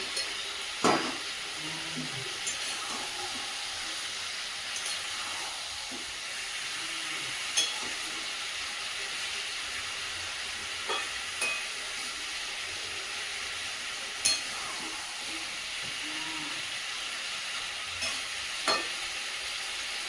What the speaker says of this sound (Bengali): মাংসটা বেশ কিছুক্ষণ কষিয়ে নিয়েছি, এবার এর মধ্যে দিয়ে দেবো ভেজে রাখা আলুগুলো